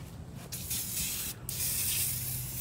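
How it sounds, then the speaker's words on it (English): Super Clean degreaser sprayed onto a Weber kettle grill: steady, close hissing spray bursts with a brief pause midway, loud and continuous with no talking. "I'm just respraying this grill"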